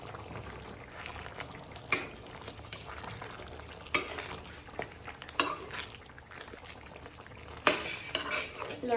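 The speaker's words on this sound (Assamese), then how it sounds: "ধনিয়া দি আমি এতিয়া লৰাই দিম" A spoon stirs chopped coriander through butter chicken masala in a pan, giving soft scraping and a few sharper metal knocks against the pan over a low background simmer, close and moderately quiet.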